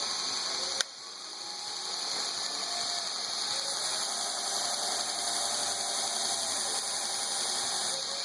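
A grinding wheel runs steadily against a knife blade as a bevel is ground down to a flat edge. The abrasive hiss and whir holds even and continuous throughout, with a sharp click near the start.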